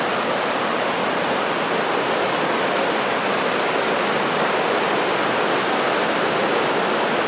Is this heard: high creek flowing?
yes